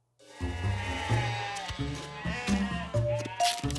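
Sheep bleat repeatedly close by, with several short overlapping calls and a louder bleat near the end.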